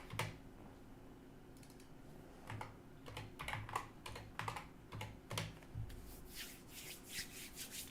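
Fingers type on a computer keyboard nearby, bursts of quick clicky keystrokes coming in irregular runs, fairly quiet over a faint room hum.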